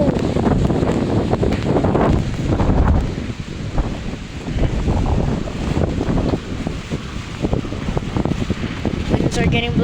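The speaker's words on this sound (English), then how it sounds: "It's so windy." Strong Typhoon Bavi winds gusting around 38 mph roar and buffet the microphone in a loud, continuous rush with surging gusts. A person talks faintly at times underneath.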